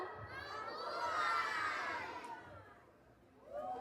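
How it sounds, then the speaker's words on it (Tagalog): A crowd shouts and cheers together at a Catholic religious procession for the feast of Our Mother of Perpetual Help in Sta. Cruz, Hagonoy, Bulacan, with a sustained swelling roar that peaks mid-clip, then fades and picks up again. "ialay sa Birhen Maria, ang mabuhay sigaw"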